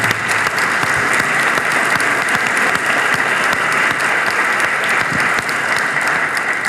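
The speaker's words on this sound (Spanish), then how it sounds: "ustedes merecen un gran aplauso" An audience gives sustained applause at a talk in Argentina, a loud, even wash of many hands clapping that continues unbroken for several seconds with no speech over it.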